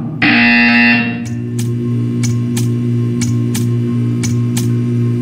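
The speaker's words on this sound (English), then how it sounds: "You will hear a buzzer. When you hear the buzzer, stare at the art." A loud electronic buzzer from the video game Portal 2 blares for about a second, then a steady low hum continues with a series of sharp clicks ticking at regular intervals.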